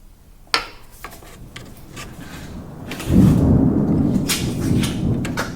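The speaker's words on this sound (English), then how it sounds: "Did you hear the thunder?" A low, rolling rumble of thunder swells after a few sharp knocks and keeps grumbling steadily to the end, fairly close and moderately loud.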